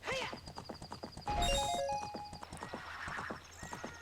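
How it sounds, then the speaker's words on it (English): A horse whinnies amid hoofbeat clip-clops in Zelda: Ocarina of Time, after being shot with arrows, alongside bright chiming game tones over a busy game soundtrack. "Am I shooting my horse?"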